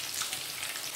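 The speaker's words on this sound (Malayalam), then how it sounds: "കുറച്ച് നേരം കൂടെ നമ്മളിട്ട് ഇത് വറുത്തെടുക്കണം" Batter-fried prawns coated in rice flour batter crackle and sizzle in hot oil, a soft, steady frying hiss up close with no talk.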